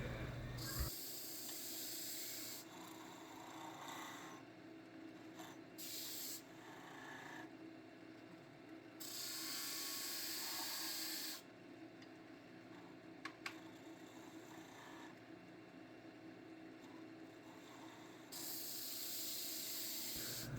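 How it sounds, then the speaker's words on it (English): Steady rasping hiss of a skew chisel peeling a wood blank on a lathe while turning a miniature rolling pin, with long continuous cuts that pause briefly and resume at an even, moderate level. "Time to create some clearance again, another peeling cut."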